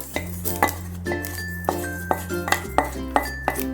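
Roasted mustard and fenugreek seeds for homemade tomato pickle are tipped into a mixer jar, making a run of light metallic clinks and taps at a fairly regular pace over a low steady hum.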